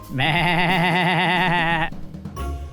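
A goat sound effect: one loud, sustained wavering bleat held close for almost two seconds, then cut off and followed by a short burst of brief noisy clatter.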